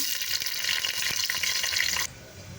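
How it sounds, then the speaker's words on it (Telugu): Green chillies, coriander and curry leaves frying in oil for a mutton trotters curry, a bright crackling sizzle with stirring scrapes, close and lively before cutting off abruptly. "కొత్తిమీర కరివేపాకు ఫ్రై అయిపోయింది కదా ఇప్పుడు పచ్చిమిర్చి కూడా వేసేసుకుంటున్నాను నేను"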